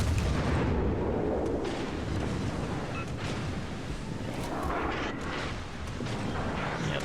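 World of Warships naval battle with warship secondary guns firing in a dense, continuous rumble of overlapping booms under wind-like roar, loud and sustained throughout.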